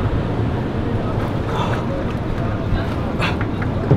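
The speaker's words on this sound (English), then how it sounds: "It's funny how quickly that wind switched." Steady wind roars over open ocean at the Teahupo'o surf break in Tahiti, a constant loud broadband rush with faint voices in the background.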